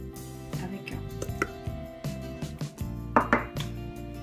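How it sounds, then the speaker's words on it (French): Hand whisking of butter for cupcakes in a kitchen: scattered soft taps and scrapes of a whisk against a bowl, with a couple of sharper clinks near the end, over steady background music. "on va commencer par fouetter le beurre"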